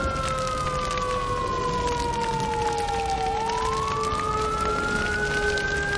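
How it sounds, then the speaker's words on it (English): A fire truck siren wails loudly and steadily, its tone sliding slowly down and then climbing back up, with no voices. "They have special trucks with sirens"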